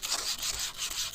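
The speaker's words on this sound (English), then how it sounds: "I got 150 sandpaper, and I'm going to just" Rhythmic back-and-forth rasping of 150 grit sandpaper over a fire-hardened sassafras wood bow, several close, steady strokes filling the short stretch with no talking.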